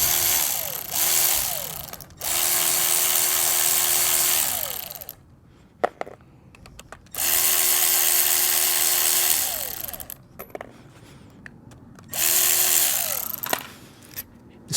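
A power tool spins out 3/16 hex head bolts from a Kelsey-Hayes EBC310 4WAL ABS module off a GM OBS truck, in three loud bursts of two to three seconds each, separated by quieter pauses with small clicks and handling noises.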